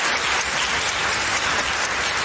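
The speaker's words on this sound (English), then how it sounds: "And it all ends right here with some applause." Audience applause at a fan debate event, a steady wash of many hands clapping, sustained and fairly loud throughout with no voices over it.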